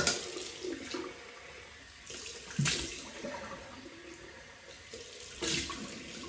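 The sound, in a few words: water running from tap for cold water rinse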